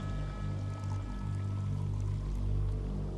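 Sparkling water pours into a glass in a quiet, continuous stream, faint and steady under a low background hum, with no talking.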